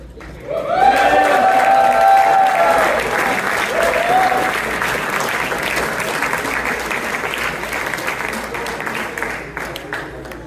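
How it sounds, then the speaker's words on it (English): Event audience in Chicago at an evening with fast bowler Shoaib Akhtar bursts into loud cheering and sustained applause, with whoops early on and clapping gradually thinning toward the end. "Everyone, quick cheer, come on."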